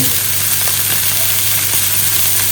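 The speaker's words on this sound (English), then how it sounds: "we're just going to pop the steak straight in there" An oiled, seasoned steak sizzles in a hot pan with a steady, close, even hiss and faint crackle, and no voices over it.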